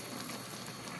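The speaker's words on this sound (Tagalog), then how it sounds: "Lapit na maluto guys, yung paksiw na isda, dorado." Pot of paksiw fish, dorado, simmering on the stove, a dense steady bubbling and hiss of boiling liquid heard close up for a brief moment, with no voices.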